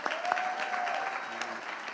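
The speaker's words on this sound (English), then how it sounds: "Let's give them all a round of applause, first of all." An audience at the 10th annual Truth Awards ceremony gives a round of applause, a dense, even wash of clapping that carries on steadily for the whole stretch at moderate volume.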